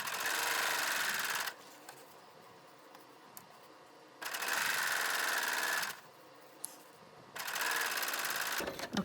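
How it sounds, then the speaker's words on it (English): A sewing machine stitches a rolled hem in three steady, loud bursts of fast mechanical whirring, each about one and a half to two seconds long, separated by quiet pauses. "So I am just going to continue stitching"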